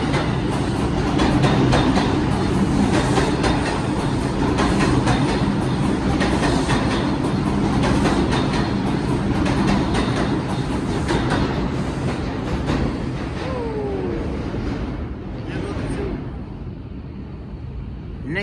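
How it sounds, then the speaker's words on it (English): A New York subway 2 train heading toward Flatbush roars past close by in Manhattan, a loud steady rumble with rhythmic wheel clatter and brief squeals that fades toward the end. "2 train heading to Flatbush."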